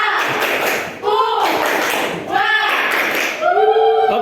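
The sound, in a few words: group clapping the Tepuk Papua clap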